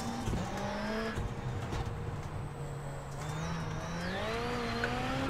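Ford Fiesta RS WRC rallycross car racing at Phoenix, its engine whining loud and near with rising and falling revs through gear changes and a brief tire squeal, alone without talk.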